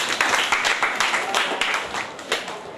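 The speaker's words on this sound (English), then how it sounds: "Okay, clap for yourself." A crowd claps together in a dense, steady burst of applause, loud and close, with a few voices mixed underneath.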